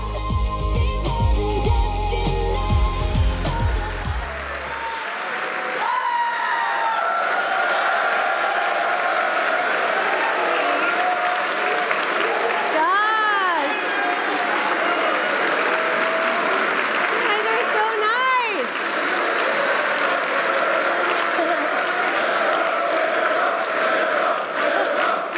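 Audience applause and cheering welcoming speaker Sarah Swafford at a Seek 2015 event, a loud sustained crowd clapping that swells after an opening musical sting and continues steadily for over twenty seconds.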